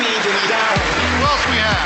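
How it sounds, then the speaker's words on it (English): An online audience gives a round of applause, a steady wash of clapping noise with a voice talking over it. "everybody give Brenda a big round of applause"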